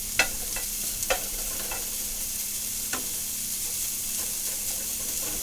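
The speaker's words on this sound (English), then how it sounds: "So you get to watch chorizo sizzle for a minute" Chorizo sizzles steadily in a preheated pan, with a constant bright frying hiss broken by a few sharp spits and pops, close by and with no talk.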